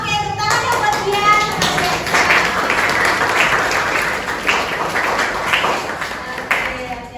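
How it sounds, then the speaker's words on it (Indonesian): A classroom of students bursts into lively clapping for a classmate, a dense, sustained patter of many hands with children's voices mixed in, gradually thinning toward the end. "tepuk tangan ya buat dia"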